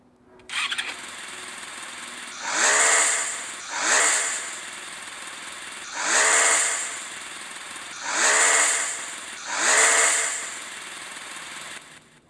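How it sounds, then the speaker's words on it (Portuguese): BMW R1200 GS 1200 cc motorcycle engine in the mobile game Moto Acelerador, revving up in five loud, evenly spaced throttle bursts after it starts, with no talking. "A próxima é 1200 cilindradas da BMW, que é a R1200 GS."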